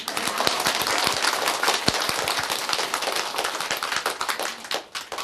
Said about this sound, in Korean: 박수 좀 쳐라고.